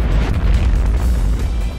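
A heavy explosion in the Plants vs. Zombies video game, a loud, deep, rumbling boom that fills the moment and sustains for nearly two seconds before easing slightly.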